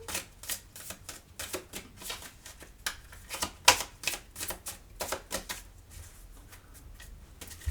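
Large oracle cards being shuffled by hand for a reading, a quick run of dry riffling slaps and flicks in an uneven rhythm, close and fairly quiet with no talk.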